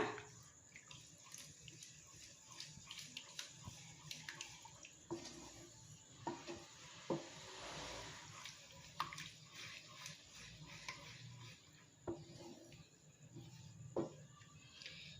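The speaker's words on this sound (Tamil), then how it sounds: "தண்ணி ஊற்றிக்கலாம்." Water splashes and trickles steadily into a pan of tomato paneer gravy, a soft continuous pour with occasional small clinks, close but quiet.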